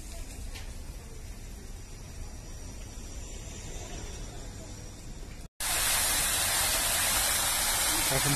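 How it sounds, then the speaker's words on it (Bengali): A garden fountain runs in a university campus at dusk, a steady broadband rush of spraying water that continues throughout, jumping louder and closer after a brief cut midway. "এখন ফোয়ারা চালিয়েছে।"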